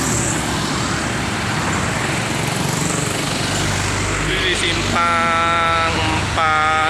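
Heavy engine rumble and road noise roar as a large intercity trailer bus passes close by on a Sumatran highway, followed by a loud horn blaring in repeated blasts.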